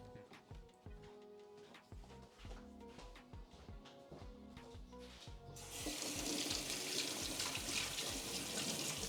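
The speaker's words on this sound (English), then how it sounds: "I'm just going to give it a quick rinse." Tap water runs into a sink while a clay coffee ball is rinsed, a steady loud hiss of flowing water that swells stronger partway through after some lighter clatter and splashing.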